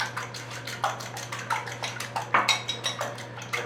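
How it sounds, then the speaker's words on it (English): Two eggs whisked together in a bowl in a home kitchen, a quick regular series of close clinking strokes with a faint wet slosh. "So I have 2 eggs, and I'm just going to mix these guys together here."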